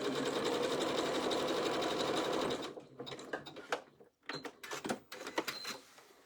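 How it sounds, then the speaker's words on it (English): Sewing machine running a dense satin stitch on a feather design, a steady close whir for about two and a half seconds, then stopping into quieter irregular handling clicks and bumps. "There are other stitches on my machine that I could have tried, but I just really like this satin stitch"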